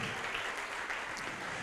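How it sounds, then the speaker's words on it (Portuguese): A church congregation applauds together in a steady, dense wash of clapping that stays loud and continuous throughout, with a faint voice under it. "Vamos aplaudir mais ao nome de Jesus"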